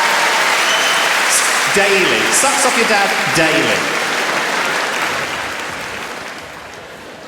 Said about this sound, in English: That round of applause for Dave.